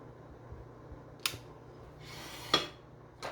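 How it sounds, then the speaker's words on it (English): Clean kitchen scissors snip through a stuffed crust supreme pizza in a few distinct sharp cuts spaced about a second apart, close and crisp against a quiet room hum, with no talking. "you know that I cut my pizzas with clean scissors"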